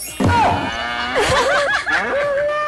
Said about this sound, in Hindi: बैल भी इनके साथ बैठा है।